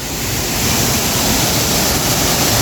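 Waterfall in Agusan del Sur, Mindanao, a loud, dense, unbroken roar of rushing water filling the whole scene, close and constant with no voices.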